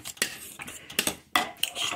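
Metal utensil clinks and scrapes against a pot of tomato soup in a few quick bursts, close and moderately loud, with no talking.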